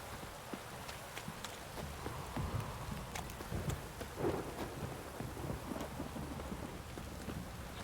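Steady rain hisses throughout in The Witcher 3: Wild Hunt, with low rumbles and scattered knocking sounds underneath, moderately loud and continuous.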